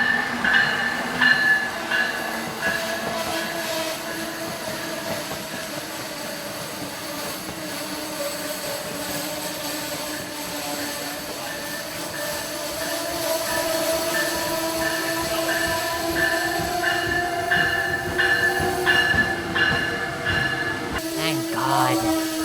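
A train rumbles past steadily for over twenty seconds, with rail noise, wheel squeal and tonal hum, growing slightly louder toward the end; no talking.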